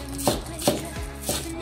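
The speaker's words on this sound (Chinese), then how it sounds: "再准备一把小葱， 把它切碎" A knife chops spring onions on a board in three distinct, close, evenly spaced strikes with no talk.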